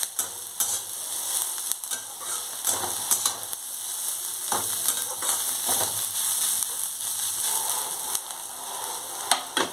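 Bottle gourd peel with green chillies stir-fries in a pan, a soft continuous sizzle broken by repeated sharp scrapes and clicks of a spatula against the pan at an uneven pace.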